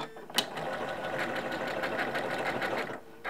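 A Janome M17 sewing machine hums in a continuous, even whir while sewing a decorative stitch, with a small click at the start and the motor stopping near the end.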